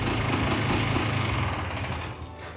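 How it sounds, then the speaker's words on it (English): An electric starter motor cranks over a 1997 Polaris Scrambler two-stroke ATV, a close, loud, steady whirring churn with a fast rhythmic pulse that fades slightly toward the end. "a turn of the key should deliver the sweet sound of a starter motor cranking over this two-stroke ATV"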